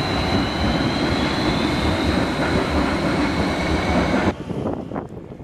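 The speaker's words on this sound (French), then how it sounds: "on reprend le métro pour aller au nord de la ville" A Vienna metro train rumbles along steadily with loud, dense wheel and motor noise and a faint high whine, then cuts off sharply near the end, leaving quieter station ambience.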